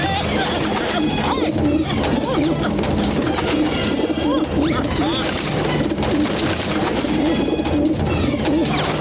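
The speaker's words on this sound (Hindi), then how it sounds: "भैया घर में कबूतरों ने हमारा जीना मुश्किल कर दिया है।" Pigeons cooing repeatedly in a cartoon scene set inside a home, soft rolling coos layered over busy background music and bustle, loud and continuous throughout, with voices mixed in.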